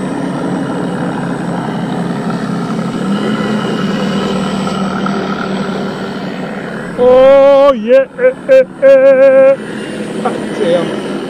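A buzzing E-flite Carbon-Z T-28 2.0 m radio-controlled model airplane engine drones steadily at a distance, then revs and wavers in loud, close passes with rising and falling pitch over grass.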